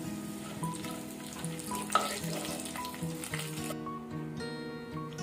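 Split moong dal fries in a pan for a sweet halwa, giving a steady, close crackling sizzle throughout with faint tonal music underneath and no talk.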